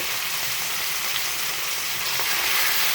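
Steak sizzles and fries steadily in a hot pan topped with rosemary, thyme and garlic, a close, continuous crackling hiss with no talk.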